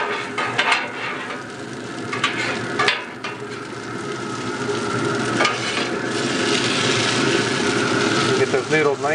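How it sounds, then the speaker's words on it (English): Garlic and vegetables stir-fried on a griddle insert over a barbecue for Thai noodles, a steady sizzle with scraping and tossing clatter, a low engine-like hum beneath and someone talking over it. "Put in with the veggies. And we'll kind of toss those around"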